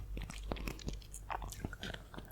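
Crisp, close crunching and chewing of a hot, freshly baked shortbread cookie, irregular bites and crumbly crackles at low volume with no talk.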